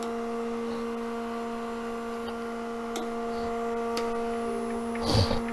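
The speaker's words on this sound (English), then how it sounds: "You hear my vacuum chuck running?" Vacuum chuck pump on a wood lathe holding a bowl, giving a steady, faint electric hum with a few small ticks and a brief knock near the end.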